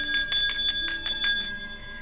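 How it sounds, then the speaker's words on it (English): A small handheld bell rung for a tarot reading, struck several times in quick succession with bright ringing tones that fade out at the end, fairly close and alone. "and I need to ring my bell"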